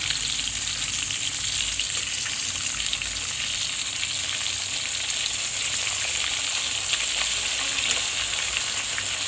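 Onion paste fries in hot oil for Bengali chitol fish muitha, giving a steady, dense sizzle that stays even and close throughout with no voices.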